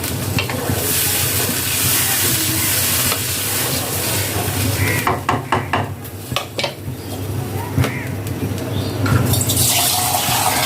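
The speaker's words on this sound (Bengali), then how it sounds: "ঝোল দিয়ে দিলাম।" Broth goes into a pan of egg and potato curry with a steady sizzle and frying hiss, followed by a cluster of stirring clinks and utensil scrapes against the pan, close and continuous, with no talking.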